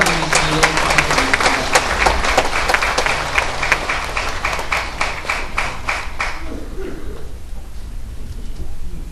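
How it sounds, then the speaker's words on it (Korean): At a briefing on compensation claims for Pacific War victims, an audience breaks into lively applause that rises, then thins and fades after several seconds, leaving scattered room noise and a murmur of voices. "뜨겁게 박수로 맞아주시기 바랍니다."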